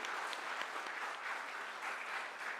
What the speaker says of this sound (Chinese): 我们拍拍手来感谢他们啊